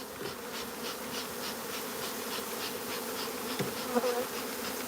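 Honeybees buzzing steadily during a nuc transfer into a hive, a dense, continuous, close hum of many insects, with faint soft knocks near the end and no talking.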